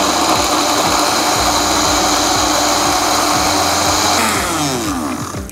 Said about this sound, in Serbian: Odličan ti taj blender pomeri.